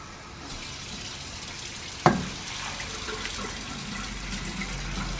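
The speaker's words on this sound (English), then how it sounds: "So now we're gonna add in some more water." About three cups of water poured into a pot of chicken soup with chicken and fresh jalapeño, a soft steady trickle with a single sharp clunk midway, quiet and near.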